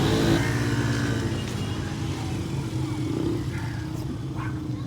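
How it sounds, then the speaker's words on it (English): A kids' quad ATV revs through burnouts nearby, a steady loud engine drone with rising and falling throttle and no pauses. "That's my girl doing some burnouts."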